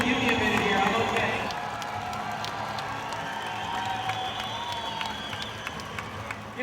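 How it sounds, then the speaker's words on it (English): Big crowd at the 2006 Dew Tour Orlando BMX vert finals breaks into loud, sustained applause and cheering that swells at first and then tapers to a steady roar, with a commentator talking over the noise. "Give a big round of applause."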